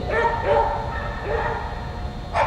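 A dog at an agility competition gives repeated excited yips and short barks, a few seconds of fairly close calls with crowd and commentary voices running underneath.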